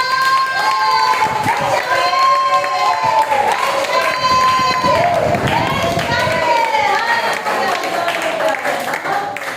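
Loud, sustained applause from a crowd fills the room at a church vigil prayer meeting, blended with music and voices carrying on throughout.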